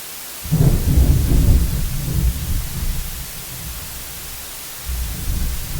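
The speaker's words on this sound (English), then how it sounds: "thunder rolled around the sky until it was drowned out by the water" Deep thunder rumbles and rolls through a steady hiss of heavy rain, fading slowly before a second low rumble rises.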